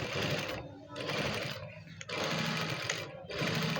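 Sewing machine running in steady bursts while stitching elastic onto a belt-style shalwar, with short pauses between three loud, close runs of stitching.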